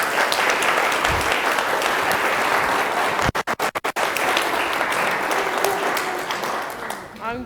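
A congregation claps through a round of applause at a religious education program celebration, dense and steady, with a brief dip midway before the clapping resumes and fades slightly toward the end.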